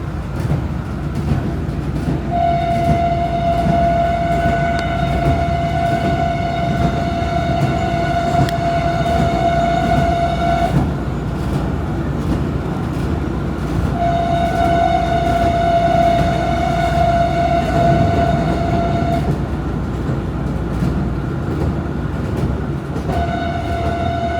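A train on a Myanmar railway rumbles loudly and continuously, sounding two long, steady horn blasts and a brief third toot at the close.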